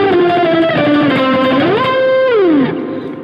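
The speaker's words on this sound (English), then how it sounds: "So you're just literally going down the scale with those octaves." Electric guitar octaves run down the scale through heavy effects and distortion, loud sustained notes gliding and stepping lower, with one brief rise before the final slide, then fading out.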